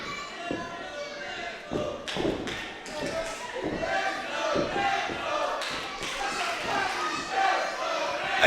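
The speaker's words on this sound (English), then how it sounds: "It's a chant that will always get the crowd going" A wrestling crowd at the WAW Arena chants in rhythm with scattered thuds and claps, while a commentator talks loudly over the noise.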